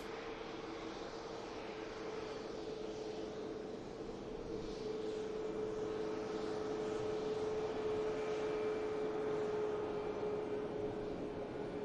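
An Aer Lingus UK Airbus A330 lines up on the runway at Manchester Airport, its engines a steady distant hum and whine that holds evenly throughout with no voices.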